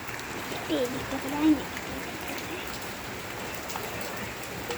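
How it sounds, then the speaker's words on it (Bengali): Heavy rain patters down onto trees as a continuous hiss, with a faint murmur of voices briefly surfacing underneath. "অনেকটা জোরে বৃষ্টি চলে এসেছে"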